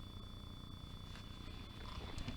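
A small kitten purring while lying on cross-stitch embroidery, a soft, close, continuous rumbling purr heard on its own at low volume, with light rustling toward the end.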